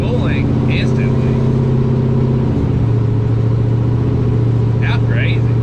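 A turbocharged 5.3 LS engine with an 85 mm turbo revs loudly nearby, its steady droning tone shifting pitch partway through, while people talk and exclaim over it.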